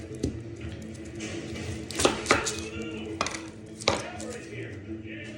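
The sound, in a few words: chopping white onion with a knife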